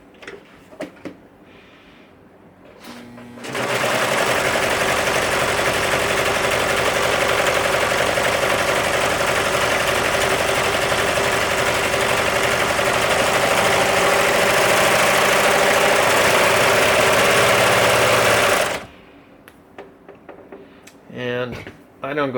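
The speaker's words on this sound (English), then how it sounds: "I don't go crazy fast on the serger because this is a very flimsy table and it jumps all over anyway" Serger sewing machine with its knife running, stitching and trimming the edge of mask fabric on a flimsy table that jumps and rattles, a steady loud mechanical whir lasting about fifteen seconds between quieter handling noises.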